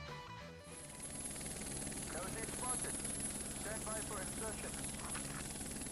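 A helicopter in the ArmA 3 SOG video game, flying a US special forces heliborne operation, gives a continuous loud rotor drone with steady beating, while people talk over it throughout.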